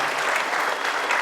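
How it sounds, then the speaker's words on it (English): Audience applause after a sixth grade school band concert, dense and steady clapping from a crowd filling the hall, moderately loud and without talking. "Can you guys give us a round of applause for that?"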